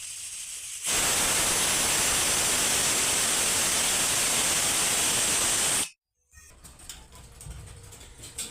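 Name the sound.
pressure cooker boiling amla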